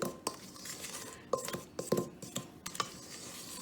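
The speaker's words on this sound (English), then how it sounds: "I'm going to fold my flour through my butter and my sugar." A utensil folds flour through butter and sugar in a mixing bowl for a raspberry and yogurt cake, giving soft scraping strokes and sharp scattered clinks against the bowl, close and fairly quiet.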